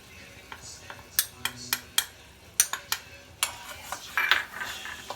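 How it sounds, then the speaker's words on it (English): A utensil scrapes and knocks against a pan while butter and all-purpose flour are stirred together, with irregular sharp taps and scraping strokes, close and clear with no talking. "Keep stirring it and kind of cook it."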